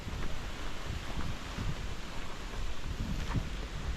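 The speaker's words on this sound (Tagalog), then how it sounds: "ang lakas ng hangin, grabe" Strong wind blowing outdoors during wood gathering, a constant broad roar with gusty rumbling buffeting against the microphone, steady and loud throughout with no other clear sounds.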